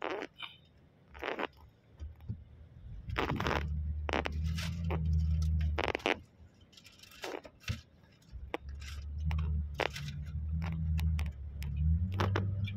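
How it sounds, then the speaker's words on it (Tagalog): Inside a car crawling through morning traffic on the way home, a steady low road rumble fills the cabin. Soft knocks and rattles rise and fall over the drone. "Traffic na talaga."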